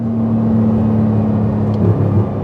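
A Porsche 911 GT2 RS doing a launch-control start, its engine a loud, close, sustained droning roar that holds steady and swells slightly near the end.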